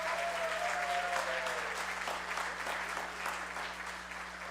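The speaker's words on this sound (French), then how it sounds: "Un autre applaudissement." An audience applauds after an evening recital in a church, a continuous wash of clapping that holds steady and then eases slightly, with a brief tonal whistle-like sound early on.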